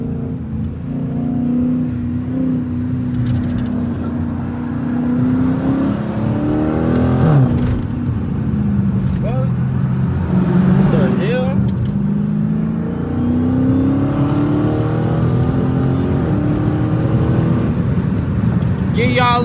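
Straight-piped Dodge Challenger Scat Pack V8 heard from inside while driving onto a highway, a loud deep rumbling drone with rising and falling revs as it accelerates and shifts, and brief voices over the engine.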